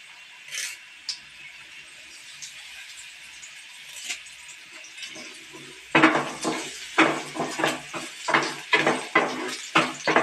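Curry leaves drop into hot oil while making Kerala-style nellikka achar (gooseberry pickle): after a few quiet clinks, a sudden loud crackling sizzle breaks out, with repeated sharp spattering pops that keep rising and falling.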